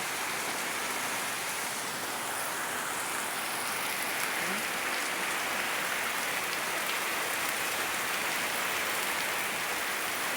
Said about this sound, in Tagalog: Yan, narinig nyo siguro ulan.